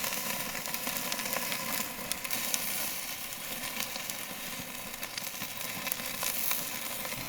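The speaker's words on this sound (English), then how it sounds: "So sear this end." A rack of lamb sears on a Weber kettle grill, giving a steady, crackling sizzle with scattered sharp pops that carries evenly throughout, close and moderately loud, with no one talking.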